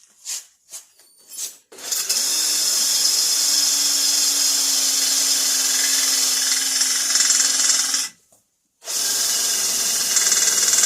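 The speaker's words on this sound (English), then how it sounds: "You need to drill a 5/16 hole down through that divot right in the middle of the perch" A power drill whines steadily for about six seconds after a few short bursts, boring a 5/16-inch hole through a steel axle perch on a Jeep TJ, stops briefly, then starts up again, close and loud.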